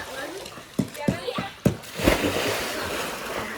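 People wade into a farm water tank or well on a morning outing, feet slapping and splashing in several sharp bursts followed by continuous sloshing, with voices chatting nearby.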